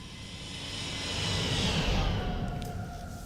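A Boeing 787 airliner makes a flyby in a flight simulator game, a broad jet roar that swells to a peak mid-pass and then fades as it moves away, with no talk over it.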